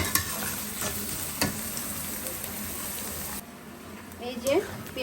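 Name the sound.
onion frying in a pan for khichuri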